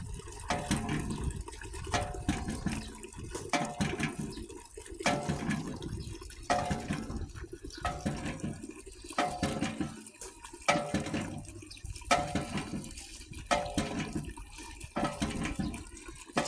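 Water is scooped and poured again and again, with repeated splashing and sloshing bursts in a loose, uneven rhythm, fairly close and with no talk over it.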